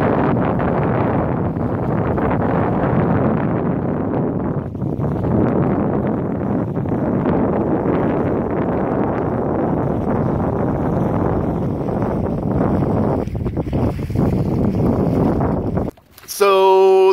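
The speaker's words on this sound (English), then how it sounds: "So, the wind's picked up again a little bit." Wind gusts buffet the microphone aboard a sailboat under sail, a steady broadband roar that runs almost the entire time before cutting off abruptly near the end.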